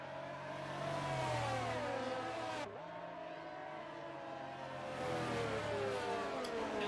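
Several race cars roar around a street-circuit track in a sim racing game, engines revving high with pitch sweeps as they accelerate through a corner and onto a straight, loud and continuous with a brief dip midway.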